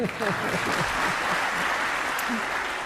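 Parliamentary chamber crowd applauding and cheering during a visit by India's Prime Minister to Australia, a dense wash of clapping and raised voices close in, with speech-like sounds mixed through.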